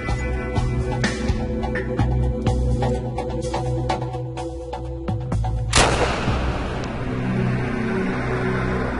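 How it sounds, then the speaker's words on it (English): Tommy gun firing .45 cartridges: a rapid burst of loud close shots with sharp reports, then a single heavy blast near the six-second mark followed by a ringing, decaying tail. "This will be a 45 cartridge fired through the Tommy gun."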